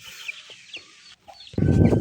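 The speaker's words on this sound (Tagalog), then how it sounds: "So ito yung pang-anim na sisiw natin." Month-old chicks give soft, quiet clucks and peeps close by, then a brief louder burst of rustling and handling noise near the end.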